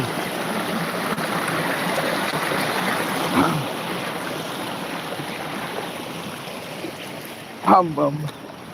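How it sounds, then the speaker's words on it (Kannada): A village stream running full after rain, with a continuous close rush of flowing water; a brief voice comes in near the end. "ನೋಡ್ರಿ ಇದು ನಮ್ಮೂರಿನ ಹಳ್ಳ ಇದು ಯಾವ ಥರ ಇದೆಲ್ಲ ಫುಲ್ ಕೊಚ್ಕೊಂಡು"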